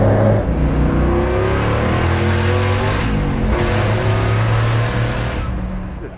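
A 1,000 hp Hellcat-swapped, Magnuson-supercharged Dodge Dart engine revs loudly and continuously, pitch rising and falling through several pulls, close by with no talking.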